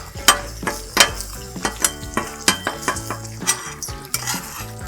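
Smoked turkey pieces being mixed on a Blackstone griddle, with a light sizzle under a run of sharp metal spatula scrapes and taps at a steady stirring rhythm, close by.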